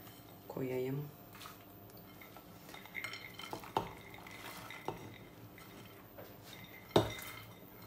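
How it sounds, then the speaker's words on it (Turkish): Almonds and walnuts for ashure poured into a metal pot in a home kitchen: a short rattling clatter of nuts early on, followed by scattered clinks of a spoon against the pot at moderate, close level. "Burada badem ve cevizlerimi boşaltıyorum."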